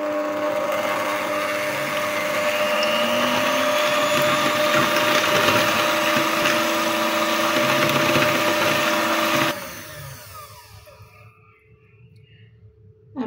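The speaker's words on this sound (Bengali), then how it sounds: "আজকে আমি সস হ্যান্ড ব্লেন্ডার দিয়ে তৈরি করব।" A hand blender whirs loud and steady for about nine seconds as it blends a grill sauce in a home kitchen, then stops abruptly, leaving faint clatter behind.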